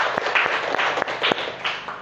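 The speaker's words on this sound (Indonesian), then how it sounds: "Beri tepuk tangan untuk temannya" A classroom gives a classmate a brief round of scattered clapping: light, uneven hand claps repeating for about two seconds at moderate loudness, with no talk.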